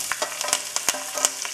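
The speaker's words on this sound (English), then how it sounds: "I'm going to add the curry leaves, and the chopped onions and green chilies" Curry leaves, chopped onions and green chilies sizzle in hot oil, with a steady frying crackle broken by sharp clicks and scrapes from stirring.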